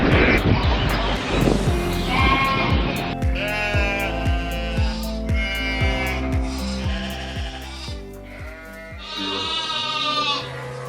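Sheep bleating in a high-tech farm facility, several loud wavering calls overlapping one after another, close and continuous with a low hum beneath.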